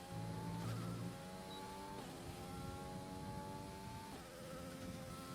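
F1 car in the F1 2020 video game at Bahrain, engine note dropping as it brakes hard at the 100-meter board and turns in, gear downshifts stepping the pitch down, loud and steady throughout.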